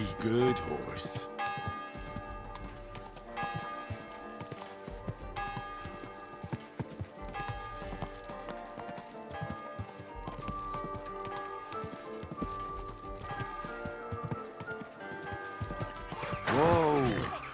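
Steady clip-clopping of horse hooves mixed with bells and background activity, ending with a horse whinnying, from the video game Kingdom Come: Deliverance II.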